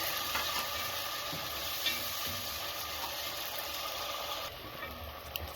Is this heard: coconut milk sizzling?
yes